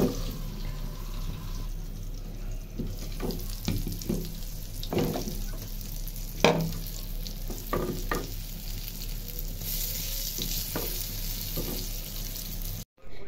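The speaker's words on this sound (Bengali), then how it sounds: "তো এখন বেগুনগুলো ফ্রাই করে নিচ্ছি।" Eggplant slices fry in a pan with a constant sizzle, punctuated by repeated scraping and tapping as they are turned and stirred, close and moderately quiet, with a brief cut near the end and no voices.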